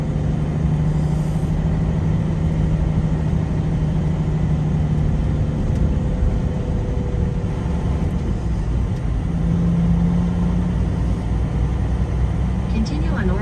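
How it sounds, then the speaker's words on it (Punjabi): A truck drives through busy downtown traffic in Oregon, with a steady low engine drone and road rumble running throughout and a brief higher hiss near the end. "ਸ਼ਹਿਰ ਦਾ ਜਿਹੜਾ ਡਾਊਨਟਾਊਨ ਏਰੀਆ ਹੁੰਦਾ ਉਹਦੇ ਵਿੱਚ ਦੀ ਟਰੱਕ ਲੈ ਕੇ ਲੰਘਦਾ"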